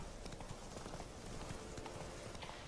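Hooves of a horse clip-clopping steadily in Witcher 3, the horse moving at a walk or trot, faint and continuous with no talk over it.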